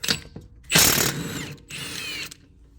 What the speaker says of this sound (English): the inside bolts, I'm using an impact gun because it's easier for me